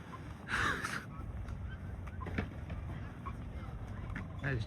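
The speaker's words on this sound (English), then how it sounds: "Look at all the seagulls." Seagulls by the Mersey docks in Liverpool give loud, harsh squawking calls, with one close burst near the start and another at the end, over a steady outdoor rumble of wind and the waterfront.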